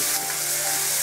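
Minced pork frying in a very hot pan, a dense, even sizzle held close and loud for about a second with no pauses.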